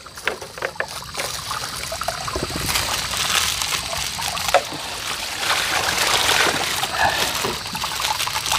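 Water splashes and trickles steadily as it is poured over a man to wash him outdoors in a forest, a continuous wet spattering with a few louder splashes.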